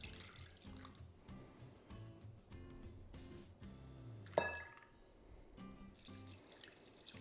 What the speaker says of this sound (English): I'm going to add half a cup of the milk to each of these.